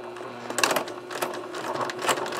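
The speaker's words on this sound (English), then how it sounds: "Now when you're sewing thicknesses like this, make sure you have a nice sharp needle. Don't go fast." A domestic sewing machine runs in short uneven bursts while stitching slowly over an apron strap, a close mechanical whir with a steady motor hum underneath.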